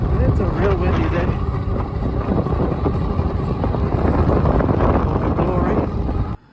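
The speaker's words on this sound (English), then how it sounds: "It's a real windy day." Strong wind buffets the microphone while riding an AWD electric bike on a very windy day, a loud continuous roaring rumble with faint speech underneath before it cuts off abruptly near the end.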